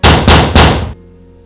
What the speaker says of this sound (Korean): 쾅쾅 두드리더군요.